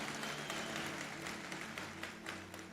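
A church congregation gives steady, fairly soft applause that continues without a break over a low background hum.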